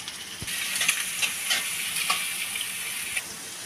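Onions and green chillies fry in oil in a wok, a steady bright sizzle with occasional soft stirring clicks and scrapes, close and fairly quiet.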